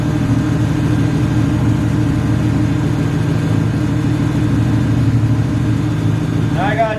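A car engine with cylinder 1 unplugged runs rough at idle, holding a loud, steady, uneven drone throughout, with a brief higher sweep near the end.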